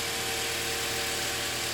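A car engine holding a raised, high idle after a fresh oil and filter change, a steady, even hum with no revving or pauses, close and constant throughout.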